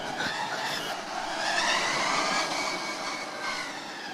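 A driverless Formula Student race car accelerates around a track, a rising whine and rushing roar swelling and easing, heard from some distance with no voices.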